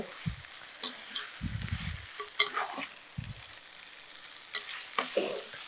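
Quail pieces stirred in a hot pan for a spicy cumin quail fry, a steady sizzle broken by several scraping, clattering strokes of a spoon against the metal, close and fairly quiet.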